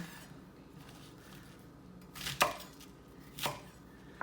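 A knife slices radicchio into ribbons on a board, two distinct crisp chops about a second apart over a quiet background.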